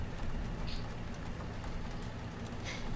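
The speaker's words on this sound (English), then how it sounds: "It's raining." Steady rain in the video game Life Is Strange, a soft continuous hiss with a low rumble beneath it, with no talk.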